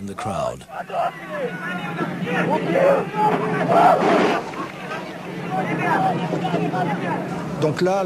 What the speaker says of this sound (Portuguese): E a multidão começou a gritar.